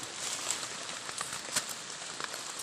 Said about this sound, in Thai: ฝนตกมาอีกแล้วพี่น้อง